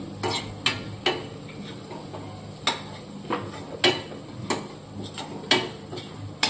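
A spoon stirs turmeric, red chilli and spices into okra curry in a pan, giving repeated close metallic taps and scrapes against the pan over a steady low sizzle.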